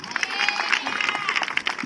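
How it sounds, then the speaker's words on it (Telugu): A church audience claps loudly in a rapid, dense patter that mixes with cheering and crowd voices, close and continuous throughout. "గట్టిగా చప్పట్లు కొట్టండి"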